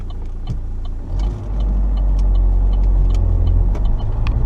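2011 Vauxhall Insignia SRi with 40,022 miles, its engine cranked and started with a short catch, then settling into a steady, close idle heard from inside the car, with faint clicks over it.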